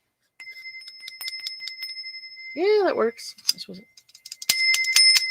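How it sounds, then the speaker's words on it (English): A small bell rung several times in quick bright strikes, with clear metallic ringing, mixed with close casual talk between the rings. "The bell."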